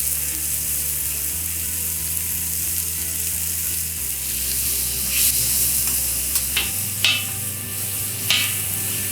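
Cheesesteak meat sizzles and fries on an Evo griddle, with a steady close hiss, a constant low hum underneath and occasional clicks and scrapes from the cooking tools.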